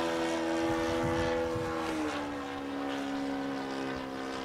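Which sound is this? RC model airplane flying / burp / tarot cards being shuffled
RC model airplane flying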